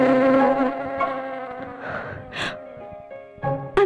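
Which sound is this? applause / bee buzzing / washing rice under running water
bee buzzing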